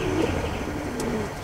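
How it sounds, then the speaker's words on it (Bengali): A male racing pigeon coos softly and steadily at close range over low background noise from nearby construction work. "এটা একটা নর কবুতর"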